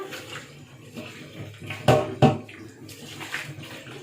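Long beans and Batak onions rinsed under running water, a soft splashing trickle with two sharper splashes midway, close and moderately loud with no talk.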